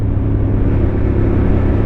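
A Yamaha MT-07 motorcycle engine (47 hp) drones steadily at close range, a loud, low, sustained rumble with no voices.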